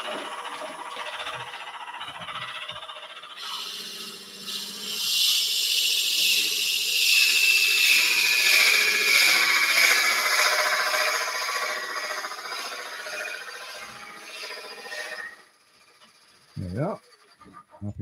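A woodworking mill drill cuts a mortise in wood, its whine rising and holding for about ten seconds before stopping, with a voice talking before and after.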